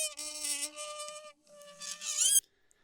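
A squeaky metal hinge creaks in two drawn-out, high, whining squeals, the second bending upward in pitch, then cuts to silence.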